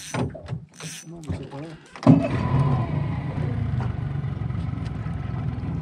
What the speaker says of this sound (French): Allez go, allume le moteur.